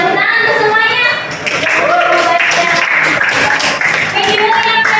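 Applause fills a classroom, with steady, fairly loud clapping from a group of students lasting throughout.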